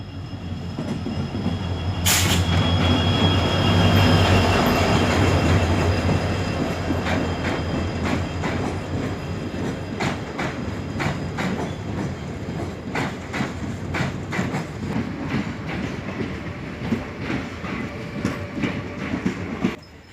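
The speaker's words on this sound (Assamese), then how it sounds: "আহি পালেহি ট্ৰেইন।" A train arrives at a railway station on a cold day, a loud rumble up close at first that eases into steady clickety-clack of wheels over rail joints, with a brief squeal early on.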